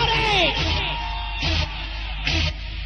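A crowd at a live club DJ night yells and whoops in loud bursts, with thumping bass from the music running underneath.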